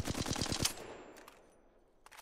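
Automatic gunfire from an Apex Legends weapon fired with uncontrolled recoil: a rapid burst of about seven shots lasting under a second, then a fading tail and faint game sounds.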